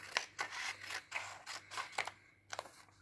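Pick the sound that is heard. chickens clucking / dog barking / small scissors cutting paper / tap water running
small scissors cutting paper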